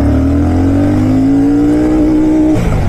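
A Royal Enfield Shotgun 650 motorcycle pulls away on a city ride, its engine note climbing steadily and loudly before a sudden drop as it shifts gear near the end.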